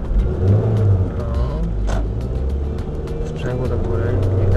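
A learner car on a nighttime driving lesson in Warsaw pulls away after a stop, its engine humming and revving low and steady inside the cabin while people talk over it.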